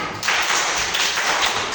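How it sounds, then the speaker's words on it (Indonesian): Teachers clap a short four-count patterned clap together in a group, the sharp, dense slaps repeating in steady rhythmic bursts at close range with no talking. "Coba, tepuk empat."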